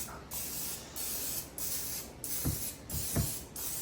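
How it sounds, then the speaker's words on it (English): Several short hissing bursts of aerosol spray onto small muffin containers, evenly spaced with brief pauses between, and a couple of soft knocks toward the end. "Let's spray these little containers."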